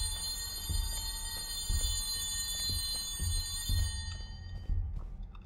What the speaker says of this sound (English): Do I gotta pick up the phone, bro?